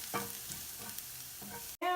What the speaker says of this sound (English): And then we're just going to go ahead and saute our garlic.